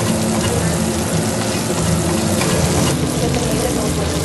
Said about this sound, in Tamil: இந்த மாதிரி நம்ம ரவா கடலை மாவு இதெல்லாம் போட்டு நம்ம டிப் பண்ணி ஃப்ரை பண்ணும் போது